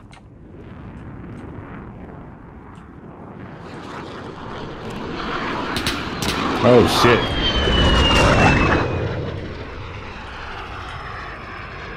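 Jet aircraft in the online shooter Call of Duty Modern Warfare during a Domination match: engine roar swells from faint to loud as it passes overhead, a brief high whine sweeping across, with a man's startled exclamation over it.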